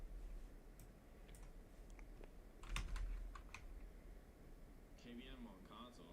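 Computer keyboard typing during a live gold-trading stream, a steady run of quick key clicks with a louder burst near the middle, under faint background talk and room hum.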